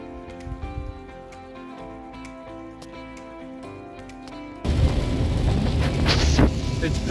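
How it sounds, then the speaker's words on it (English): Heavy rain pours down on 90 Mile Beach, a dense steady roar that swells suddenly louder partway through, with wind-like rushing noise. "It's raining so hard."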